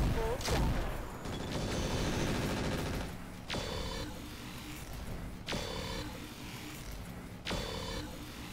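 Bursts of automatic gunfire in the Roguepoint video game, several sharp volleys repeating every couple of seconds over a busy mechanical background.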